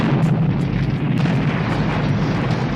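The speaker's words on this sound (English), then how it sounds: "Good thing Andy wised up and walked away from the dope house before it exploded." A gas explosion tears through a house in a horror film, heard as a sustained loud, dense roaring blast that stays heavy throughout.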